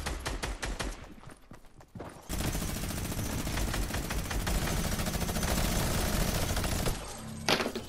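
Video game gunfire crackles in rapid, dense bursts, sparse shots at first, then a sustained loud barrage of automatic fire, with no voices.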